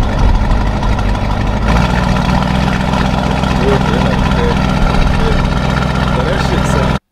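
Sports car engine idling steadily in Corsa drive mode, a loud, continuous low rumble that holds throughout and cuts off abruptly at the very end.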